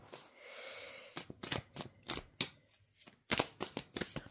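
Tarot cards are shuffled and drawn by hand, giving a run of sharp riffling bursts and crisp flicks spaced irregularly, close and fairly loud, with a softer rustle at the start.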